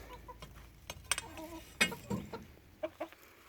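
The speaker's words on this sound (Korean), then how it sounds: "닭들 다 커가지고 이제." Chickens cluck in short, scattered bursts close by, with soft rustling between the calls.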